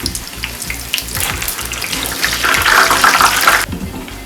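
Puri dough frying in hot cooking oil gives a loud, steady sizzle and crackle that swells as more oil is spooned over it, then drops away sharply.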